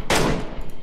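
Burst of automatic machine gun fire in the mobile battle royale game BGMI, a loud, dense volley of rapid shots running nearly the full length, with another burst starting right at the end.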